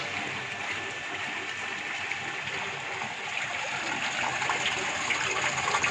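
Water pours steadily into the collecting tank of a fluid mechanics lab rig, a continuous rushing, splashing flow that holds even and close for the whole stretch and swells slightly near the end, with no voices.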